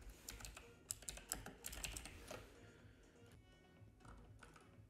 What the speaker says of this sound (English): Clicking buttons.